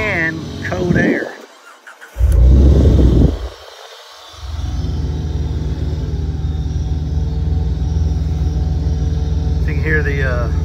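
A 2006 Jeep Wrangler X without catalytic converters cranks and fires up loudly, then settles into a steady, rumbling idle, with a person talking at the start and end.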